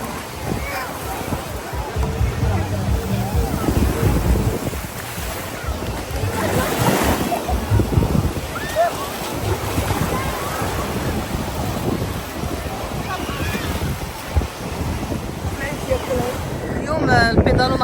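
Rough sea on a Moroccan beach: loud, continuous surf crashes mixed with heavy gusting wind buffeting the microphone, sustained throughout with no break.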